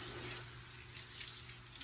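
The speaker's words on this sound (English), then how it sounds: "I'll just put some lukewarm water" Lukewarm water runs from a tap onto goalkeeper gloves being washed, a steady close splashing flow that eases slightly after a moment and then continues evenly with no voices.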